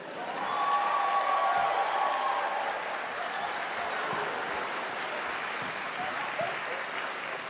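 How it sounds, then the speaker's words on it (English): A crowd applauds steadily at the Independent Games Festival Awards, a dense wash of clapping that swells early and holds at a fairly loud level throughout. "Let's give a round of applause to Andy Schatz"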